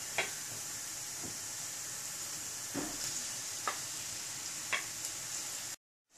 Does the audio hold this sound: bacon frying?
yes